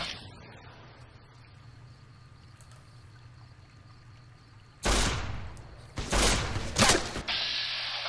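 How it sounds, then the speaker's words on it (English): Shotgun fire in Fallout: New Vegas, with a hunting shotgun among the weapons: several loud, booming blasts arrive close together after a quiet stretch, some in a rapid pair, with no talking. "You're just trying to piddle at me with a shotgun."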